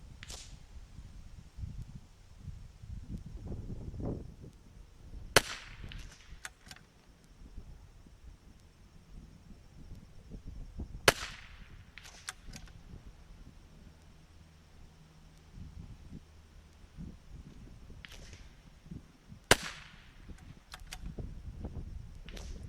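Wind buffets the microphones at an outdoor precision rimfire rifle match as a low, fluttering rumble throughout, broken by three sharp, loud rifle cracks.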